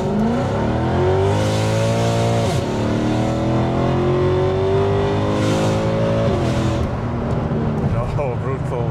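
Nitrous-fed Mercedes-Benz C63 AMG pulls hard through second gear, its V8 climbing in pitch, dropping at a gear change, then rising again loud and close from inside the cabin, with talk over the engine.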